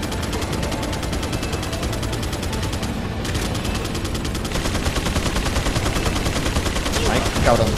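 Rapid gunfire from Resident Evil 4, dense bursts of automatic shots rattling continuously, loud and close, with a brief lull midway and heavier fire toward the end.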